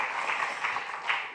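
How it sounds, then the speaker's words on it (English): An audience at a student town hall at Grinnell College applauds briefly, a steady wash of many hands clapping together at some distance. "Yes, very deserving of a round of applause."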